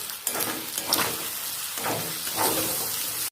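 Tomatoes with turmeric and chili powder sizzle loudly in a hot pan as they are stirred, a continuous close frying hiss that swells in waves with each stir and has no voices over it.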